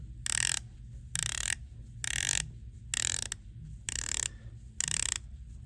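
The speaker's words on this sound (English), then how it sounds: "So take a listen to bezel action." The rotating dive bezel on an Omega Planet Ocean watch is turned in six evenly spaced bursts of crisp, close ratcheting clicks, with quiet gaps between them and no talking.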